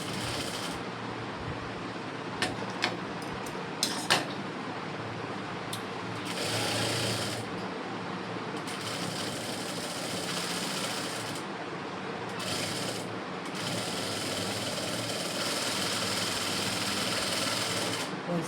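Sewing machine stitching a blouse, a steady continuous mechanical whir running across the whole stretch with a few brief pauses and small clicks, close and fairly loud.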